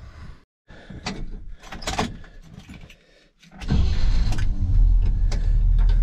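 On a lifted Chevy squarebody pickup, a door clunks and keys rattle, then after a short pause the engine cranks and catches, settling into a loud, close, steady idle.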